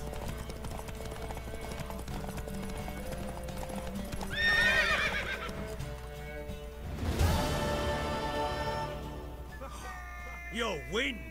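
A horse in the video game The Witcher 3 clip-clops at a trot and lets out neighs and whinnies, with hoofbeats steady throughout and game voices talking at points.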